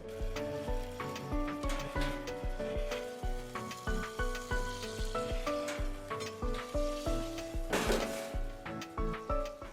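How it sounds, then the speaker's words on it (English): Onion kebab sizzles over an intense fire in a steady, close fry. Short crackling pulses come through at an even rhythm. "A single portion of onion kebab will be cooked with this fire."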